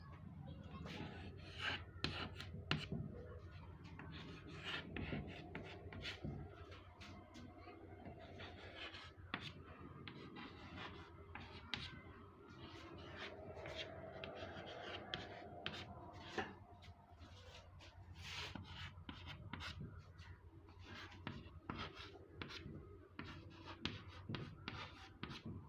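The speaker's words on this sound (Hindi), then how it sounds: "मैं लिख रहा हूं" Writing during a Hindi grammar lesson, with continuous close rubbing and scratching strokes at an irregular rhythm, moderately quiet and with no talk over it.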